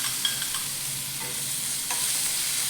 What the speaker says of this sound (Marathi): 1 मिनिटभर आपण मिरची अशी एकदम कमी गॅसवरती बघा परतून घेतलेली